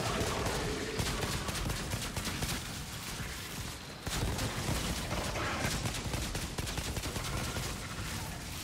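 Dense, continuous gunfire and explosive bursts from the shooter game Outriders roar throughout, steady and loud with a brief dip midway, with no talk over it.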